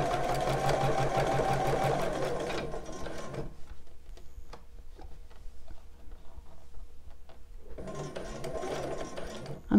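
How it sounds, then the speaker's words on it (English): A domestic sewing machine runs in fast continuous stitching while sewing a bra, stops for several seconds of near silence with faint ticks, then starts again in another steady burst, close and fairly loud. "I'm sewing over this pin."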